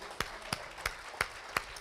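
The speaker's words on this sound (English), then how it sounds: "just go ahead and clap for the Lord" Sparse, slow claps from a church congregation in a worship service, five distinct hand claps spaced evenly over a faint room background, no talk over them.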